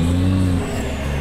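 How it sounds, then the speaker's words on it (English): A truck's loud engine runs close by with a deep, steady rumble that shifts and eases slightly about halfway through, with no talk over it. "The truck's loud, says Drew."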